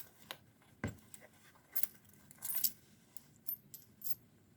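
Coins or keys jingle inside the coin compartment of a fabric bifold wallet, heard as a few quiet, scattered metallic clinks and taps up close, with no voices.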